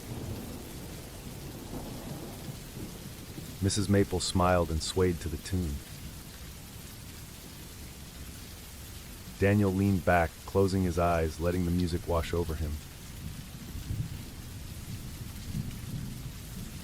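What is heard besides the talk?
steady rain tapping on windows with thunder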